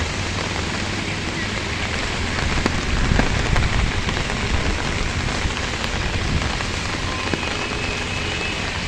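Heavy rain pours steadily on the flooding town of Cox's Bazar, a dense continuous hiss with no breaks, loud and close throughout.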